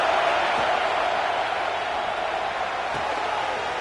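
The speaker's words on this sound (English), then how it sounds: "listen to this crowd noise. This stadium is vibrating." A packed stadium crowd roars at a college football game between Oregon and Oklahoma, a dense, steady wall of cheering that holds loud and unbroken throughout.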